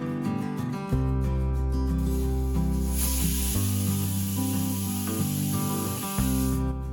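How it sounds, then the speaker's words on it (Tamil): A pressure cooker whistle bursts in with a loud, sustained steam hiss on high flame while cooking chicken biryani, keeps going for several seconds, then cuts off, over steady music with a deep bass line. "ஹை ஃப்ளேமில் ஒரு விசில் விடுங்க"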